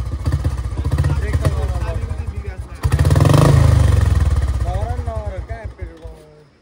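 A motorcycle engine is started and revved, idling unevenly before a loud rev swells in the middle and then fades back to idle, with people talking over it throughout.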